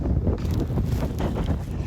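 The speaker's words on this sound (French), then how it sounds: "Le vent s'est levé." Strong wind gusts buffet the microphone outdoors in snowy Lapland, a loud, steady roar with low rumbling across the whole clip and no voices.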